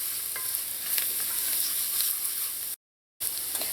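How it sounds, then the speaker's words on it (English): Curry powder and chili powder toast on low heat in a pan and are stirred, giving a gentle steady sizzle with faint scraping, close by, broken by a brief silent gap, and no voices. "Give this a mix, and now you want this to toast here on low because you don't want to burn the curry."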